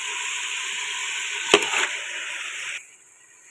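Boneless chicken dropped into fried masala for jalfarezi brings a sharp thud and splatter midway through a continuous close sizzle, which then drops off to a quieter hiss.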